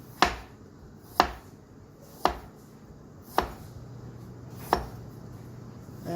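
A knife slices radishes thinly on a cutting board in five evenly spaced, sharp chops about a second apart, close up and clear over a quiet kitchen background.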